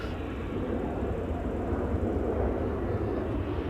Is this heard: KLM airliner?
yes